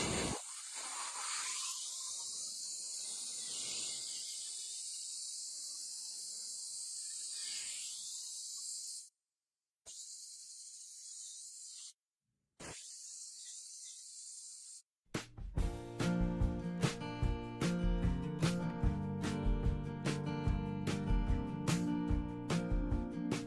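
Sandblasting a brake caliper with an air compressor rated 5.8 SCFM at 90 PSI: a steady, loud blasting hiss with brief stops and restarts, then a harsher, clattering stretch as the blast continues.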